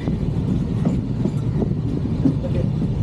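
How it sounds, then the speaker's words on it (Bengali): The Kamakhya Capital Express passenger train rolls along from Siliguri toward Kamakhya with a steady low rumble and rhythmic clatter of wheels on track, heard from inside the carriage. "ট্রেন ছেড়েছে আসামের কামাখ্যার উদ্দেশ্যে।"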